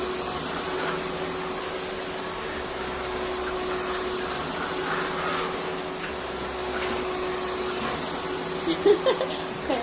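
A pink toy electric vacuum cleaner runs with a steady, thin motor whir and faint high whine that stays constant throughout, with a few light clicks and bumps near the end.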